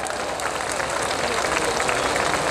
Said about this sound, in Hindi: तो वो बहुत जोर से एक बार हाथ खड़े करके तालियां लगा दें।